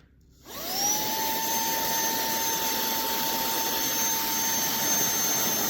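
A TANYO handheld cordless vacuum cleaner switches on and runs with a steady, loud whine and airy rush, a high motor tone holding throughout.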